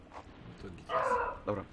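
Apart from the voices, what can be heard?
dog barking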